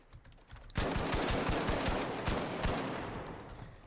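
Rapid-fire weapon in The Finals, a sudden loud burst of quick close shots in a fast even rhythm, ringing on briefly after the trigger is released.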